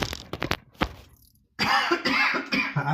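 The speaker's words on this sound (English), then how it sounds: "I don't know why I'm coughing." A person coughs several times in quick bursts near the microphone in a home kitchen while cooking chili, followed by a brief pause and then a louder stretch of throat-clearing and raspy coughing.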